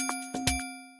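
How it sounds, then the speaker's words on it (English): Drum tops group run through the Corpus resonance effect on its default preset: a few short ringing, metallic percussive hits with sustained tonal resonances humming underneath, moderately quiet and close, no voices. "This is an audio effect that you can find under reverb and resonance."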